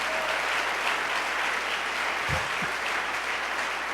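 A church congregation claps together in praise, a dense, sustained wash of applause with a couple of low thumps partway through.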